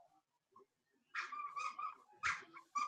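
An excited dog gives faint, high squeaks and whimpers in a quiet room, a few short bursts close together that grow busier toward the end.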